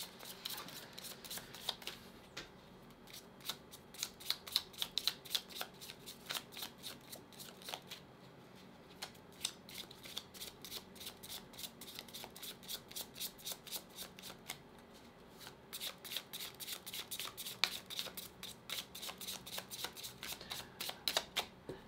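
Tarot cards shuffled by hand in a long run of rapid riffling bursts, each a quick papery flutter, with brief pauses between bursts; close and fairly quiet.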